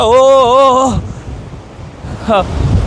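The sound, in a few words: ocean waves and wind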